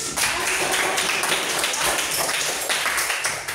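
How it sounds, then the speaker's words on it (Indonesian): Clapping from a classroom group, a steady dense patter of many hands lasting a few seconds at moderate loudness, with some voices mixed in. "Tepuk tangan."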